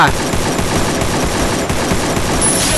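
Rapid gunfire from the mobile battle royale game Free Fire: dense, loud bursts of automatic shots that rattle on continuously through the whole stretch, close and unbroken.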